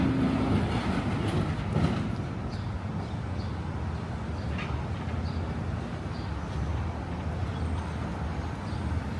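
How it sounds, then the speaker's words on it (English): A New York City 7 line subway train rumbles steadily past in Sunnyside, Queens, with a broad roar and faint rhythmic clatter, mixed with city ambience and a few distant chirps. "This is the 7 train line."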